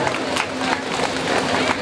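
An audience at a Bhagavat Saptah religious gathering bursts into applause, a dense close wash of clapping that fills the whole short moment.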